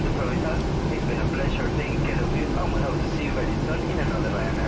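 A PMDG Boeing 737-800 taking off in a flight simulator on a Warsaw to Riga route, a steady, broadband jet engine roar holding constant throughout, loud and close, with no pauses.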